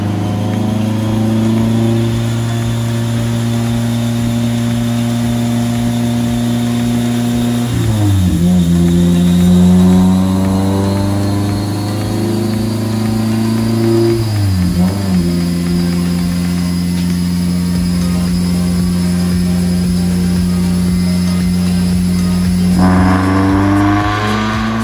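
A turbocharged car with a stock-flange turbo screams through a dyno pull, its loud engine note climbing steadily in pitch, briefly dropping at two gear shifts, then rising again until the throttle lifts at the end.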